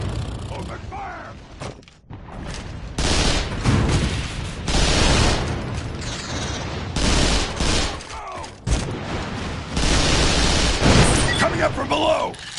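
Gunfire in the video game Vanquish: sustained bursts of loud automatic shooting and mechanical clatter in the middle of a firefight, with brief pauses, under shouted character voices.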